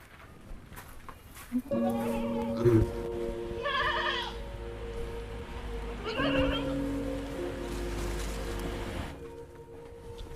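A goat bleats in two long wavering calls a few seconds apart, close and clear over a quiet outdoor background.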